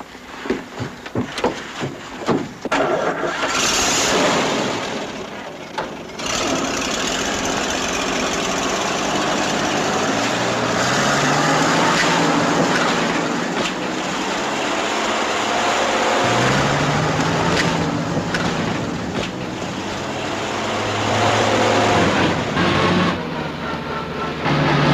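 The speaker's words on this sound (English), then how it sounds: "Keep racing that engine and get us in so deep we'll never get out." An all-wheel drive military vehicle's engine races and labors loudly while stuck in deep mud, a steady rough roar that rises and falls for the whole stretch with no talk over it.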